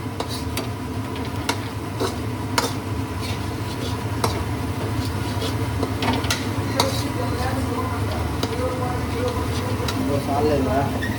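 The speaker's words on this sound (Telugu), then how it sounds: "ఇక్కడ మా కుర్రోడు బెండకాయ ఫ్రై చేస్తున్నాడు" Okra (ladies' finger) frying in a pan gives a steady background sizzle, with repeated light clicks and taps of a spatula or utensils stirring throughout.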